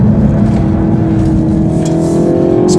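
A small Mini hatchback accelerates hard with its engine note rising steadily in pitch, loud and close as if heard from inside the cabin, a continuous strained drone without speech.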